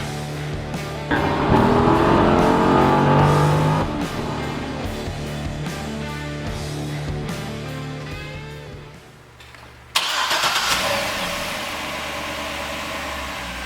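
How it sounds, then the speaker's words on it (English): A 2007 Chevrolet Corvette C6's 6-liter V8 rumbles steadily at idle, swells briefly as it revs, dips lower, then settles back into a loud, even running note. "Under the hood of this Vet, you're going to find a 6-liter V8 engine."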